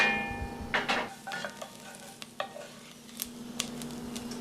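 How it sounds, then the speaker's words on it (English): Onions being stirred as they cook in a pan, with a steady low sizzle and several scraping strokes of a utensil at close range, no talking. "And you just start stirring the onions, give them a nice stir."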